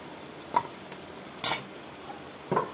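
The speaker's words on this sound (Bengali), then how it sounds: "তো বন্ধুরা ভেজে রাখা কচুটা আমি দিয়ে দিচ্ছি।" Pre-fried taro goes into a hot cooking pan, giving a few separate scrapes and clatters over a faint background sizzle, with one louder metallic scrape midway.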